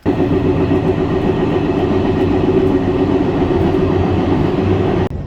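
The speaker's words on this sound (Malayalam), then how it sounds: "നല്ല വ്യൂവിലുള്ള ഒരു ട്രെയിൻ റൈഡ് നടത്താൻ പറ്റുമെന്ന് പ്രതീക്ഷിക്കുന്നു" A local train in Portugal rolls steadily under a loud, continuous low rumble of wheels and carriage noise heard from inside, with a sharp drop in level just before the end.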